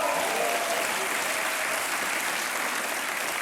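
Outdoor crowds applaud during the Prinsjesdag royal procession with its eight-horse carriage, a dense, steady wash of clapping from many people that continues without a break.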